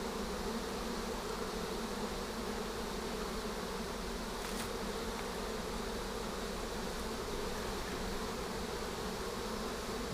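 A swarm of bees hums and buzzes steadily around a swarm box, a dense, continuous drone at a constant level with no talking.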